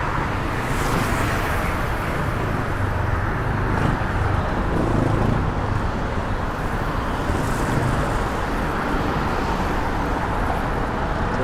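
Traffic leaves a bridge in New York City as a continuous, loud roadway rumble of car engines and tyres, steady and close, with no distinct single vehicle standing out.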